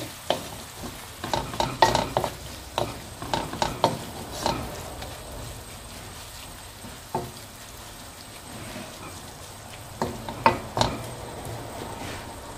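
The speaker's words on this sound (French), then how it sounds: "Et je rajoute les champignons. On laisse bien revenir." Mushrooms sautéing in a pan while being stirred, with a soft steady sizzle under a run of scraping and stirring clatters that come in bursts and then thin out to occasional knocks.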